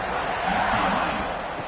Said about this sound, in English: this crowd is buzzing after that last